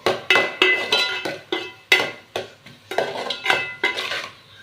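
Paneer fried rice ingredients are stirred and sautéed in a pan, with a metal spatula striking and scraping the pan in loud, regular, ringing clanks about twice a second, close by.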